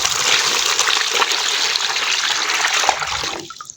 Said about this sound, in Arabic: دول 3 لتر ميه، هبدأ ان انا احطهم